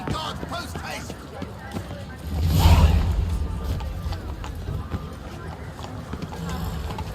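Horse hooves gallop in The Witcher 3: Wild Hunt, a steady clip-clop rhythm that swells briefly louder midway, mixed into a dense game soundscape with faint voices.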